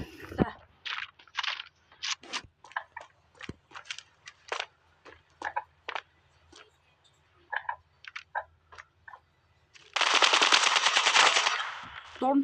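Sharp shots ring out one after another from a scoped gun in a video game, spaced irregularly and close, followed near the end by a dense sustained burst of fire.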